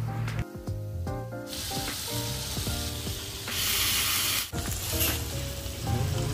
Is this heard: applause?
no